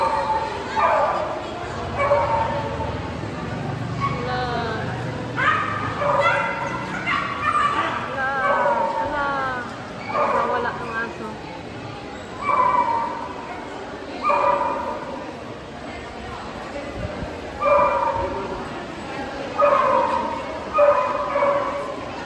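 Many dogs bark and yip in repeated bursts, some whimpering, at moderate distance, with occasional talk and a steady background hum between the calls.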